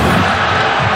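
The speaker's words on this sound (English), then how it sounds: "Crowd's upset" Large football stadium crowd at a college game, Duke versus Georgia Tech, roaring in an upset, booing reaction, a dense, loud, unbroken wash of voices for a brief moment.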